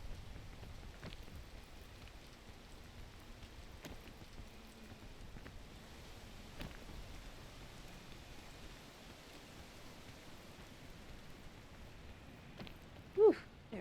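Rain falling in the climbing video game PEAK, a soft continuous hiss of rainfall with faint drop textures, quiet and steady, with a brief louder knock near the end.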